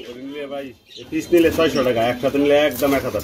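Nuremberg red pigeons coo in a series of throaty, rolling calls close by, with a brief pause before the cooing resumes more strongly.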